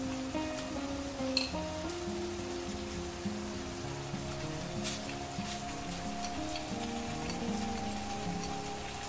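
Spices fry in a pan for a fried tikka biryani, a steady, soft sizzle with faint crackles running throughout under low background tones, with no speech.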